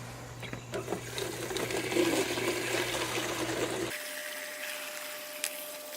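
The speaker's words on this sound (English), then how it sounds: "So let's fill it with some rainwater, and then it's going to be a lot more substantial." Rainwater poured into a plastic milk jug, a steady gurgling pour that runs for several seconds and then stops abruptly, leaving a faint hum.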